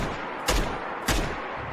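Two sharp gunshots from Fallout 4 with an audio overhaul mod crack about half a second apart, each one trailing into a long, echoing reverb tail.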